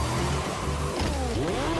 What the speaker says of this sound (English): The roar of the engine